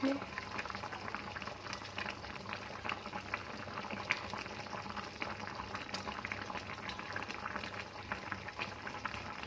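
Pork sinigang soup boils in a pot, a steady low bubbling simmer with small pops and splashes at moderate volume, with faint background sounds.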